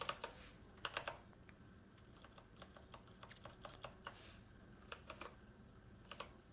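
Typing on a computer keyboard: sparse, quiet key clicks in irregular clusters, with a few sharper taps, close by and heard on their own without any talking.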